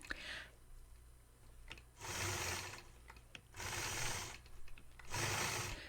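Domestic sewing machine quilting a mountainside quilt, stitching in the ditch: three separate bursts of fast, whirring needle stitching, each lasting about a second, with quieter mechanical clicks and handling sounds between them.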